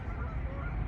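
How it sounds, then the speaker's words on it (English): A flock of geese honks as it departs from an old mill at dawn, a steady dense chorus of overlapping calls heard from a distance against a broad wash of outdoor noise. "The old geese departing."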